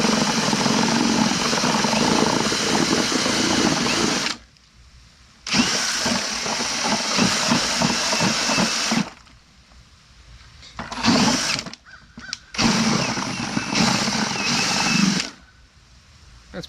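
A power drill mixes thinset mortar in a bucket, its motor whining loudly in several bursts of a few seconds each, with short quiet gaps between the runs.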